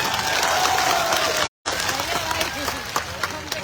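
Crowd at a farmers' mahapanchayat rally in Baraut breaks into loud, sustained applause and clapping, briefly cut off by a short gap before the dense clapping resumes.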